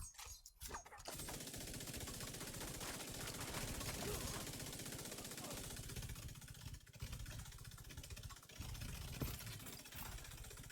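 Gunfire rattles through a dense stretch of sustained automatic shooting in The Division 2, loud and continuous with brief gaps.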